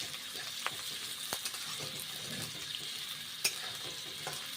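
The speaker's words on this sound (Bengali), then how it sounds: "তারপর পেঁয়াজগুলো ভেজে নিচ্ছি।" Onions fry in hot oil, a faint, steady sizzling hiss with a few light clicks and taps from the pan, heard close with no voices.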